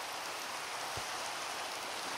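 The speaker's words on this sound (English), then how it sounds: "It's rain." Rain falling in Minecraft 1.16, a steady even hiss of drops filling the brief moment, moderately loud with no pauses and no voices.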